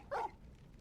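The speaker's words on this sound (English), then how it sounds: "Bark, bark." A single short dog bark in the Final Fantasy XVI video game, a brief mid-loud yap standing alone over a low background hum.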